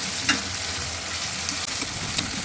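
Onions fry in a pan with a steady, close sizzle, joined by a few light scrapes and taps as they are stirred through for a vegetable dish with pointed gourd.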